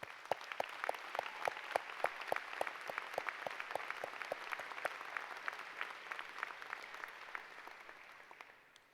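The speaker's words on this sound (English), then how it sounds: "Let's give them a nice round of applause." An audience at a high school graduation ceremony applauds families, a dense wash of many hands clapping at a steady rate, fairly distant and even, fading out toward the end.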